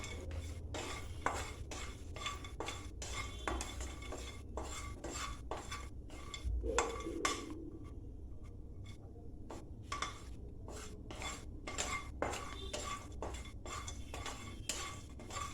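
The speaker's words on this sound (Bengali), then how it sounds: "মা একদম লো ফ্লেমে 4-5টা আমন্ড একদম ফ্রাই একটু করছে" Four or five almonds dry-roast in a pan with no oil over a low flame, making a quiet run of rhythmic scraping and stirring clicks against the metal with only a faint sizzle.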